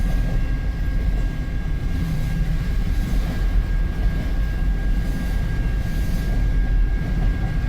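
A CN X273 southbound freight train passes in Richmond, Michigan, a loud, steady rumble and roar of rail cars throughout, recorded close by on a phone with no talking.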